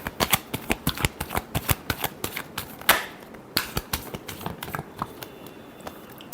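Tarot cards are shuffled close by in quick, crisp bursts of riffling flicks and snaps, with a brief pause midway before the shuffling resumes.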